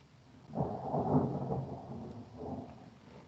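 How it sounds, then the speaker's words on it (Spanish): Thunder during rain picked up over a home microphone: a quiet, low rolling rumble that swells twice across a few seconds, with no talking. "escuché igual el trueno que le llegó a través de su micrófono"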